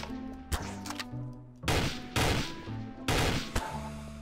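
Gunfire in a Garry's Mod DarkRP match: several bursts of loud, close shots, each a sharp clustered volley, separated by short gaps with a low hum of game music beneath.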